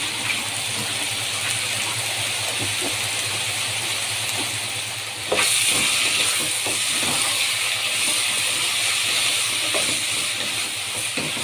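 Potatoes frying in hot oil for a fried pasta dish give a steady, loud sizzle and hiss that grows slightly denser partway through, with faint scattered pops and no talking.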